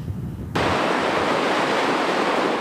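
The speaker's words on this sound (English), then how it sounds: "We can see that the falls are flowing underneath the debris" Bridalveil Falls near the Provo River in Utah flows beneath avalanche debris of snow, ice, dirt and branches. Quiet background gives way abruptly to a loud, steady roar of rushing water that continues unbroken.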